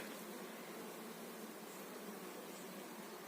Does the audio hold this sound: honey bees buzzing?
yes